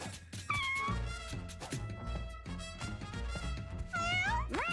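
Cartoonish cat meows from the video game Mewgenics, several short rising and falling calls over busy, rhythmic game music and effects, fairly quiet overall.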